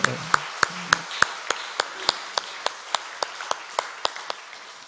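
A congregation at a Korean Friday dawn prayer service claps in sharp, evenly spaced strokes, roughly three per second, fairly close and crisp, with faint murmuring beneath.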